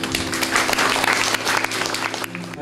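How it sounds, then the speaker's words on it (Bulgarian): Audience clapping for a speaker being introduced at a therapy event in Bulgaria, brisk and fairly loud, with individual claps audible within the crowd, then tapering off near the end. "Моля, аплодисменти за Георги Илчев."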